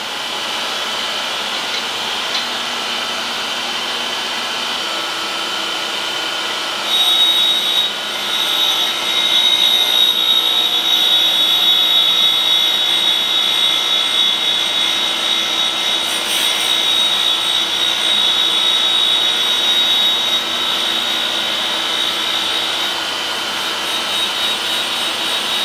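A grinding machine works a precision bushing with a steady, high-pitched whine and broadband hiss that holds constant throughout, rising slightly louder partway in as contact increases.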